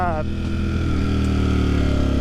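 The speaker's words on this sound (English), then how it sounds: "these engines, when the exhaust valve is open with the stock exhaust, they actually sound pretty good" A Ducati Streetfighter V4 with its stock exhaust runs steadily, its deep engine note droning loud and constant after a brief higher rev at the start.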